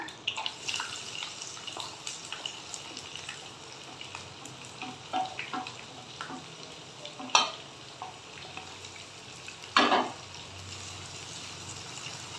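Onions frying in a pan, giving a close, steady crackling sizzle with scattered stirring scrapes and two sharper clatters of the spoon against the pan.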